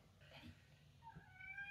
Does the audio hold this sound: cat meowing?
yes